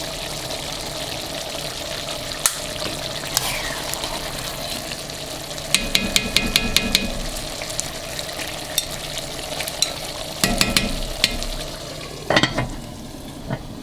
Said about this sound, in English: onion and peppers have been simmering there for around 10 minutes